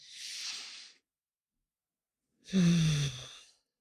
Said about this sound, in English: Just close your eyes if you'd like and take a deep breath in.